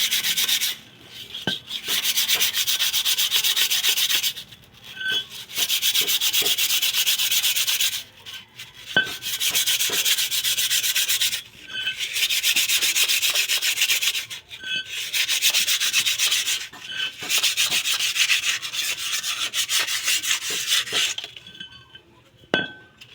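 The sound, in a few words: scraping rust off Suzuki wagon brake parts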